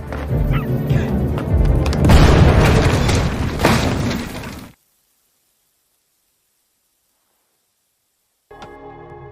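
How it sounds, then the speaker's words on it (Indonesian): A car loaded with gas cylinders and a boulder above a tunnel are blown up together in a film scene, giving a loud, sustained blast with crashing debris for about five seconds, then sudden silence before a short sound at the end. "mereka ingin meledakkan batu itu dengan cara di atas terowongan diletakkan mobil yang berisi tabung gas dan meledakkan batu serta mobil dengan cara yang bersamaan"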